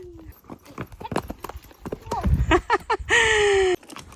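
A pony's hooves clip-clop along a mountain trail obstacle course, a quick run of close, distinct strikes with a whinny near the end, while people talk over it.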